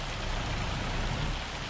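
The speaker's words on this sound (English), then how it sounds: "I can't wait till this hail goes away." Hail falling in Farming Simulator 25, a dense, steady patter of icy pellets hammering surfaces, loud and continuous without any talking.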